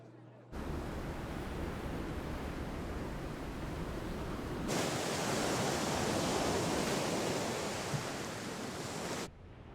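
Sea waves break in a steady, dense wash of surf, rushing continuously and growing louder partway through before cutting off abruptly, with no voices.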